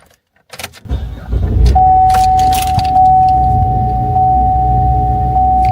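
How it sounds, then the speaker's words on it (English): A car struggling through a hard start, suspected of a faulty purge valve solenoid: a cranking burst opens the clip, then the engine catches and runs with a steady, close drone and a thin sustained whine over it. "You ever hear your car start up and sounds like this?"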